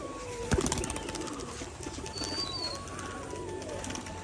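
A frightened pet pigeon gives a burst of wing flapping, then low cooing follows, with a thin steady whistle-like tone running through the background.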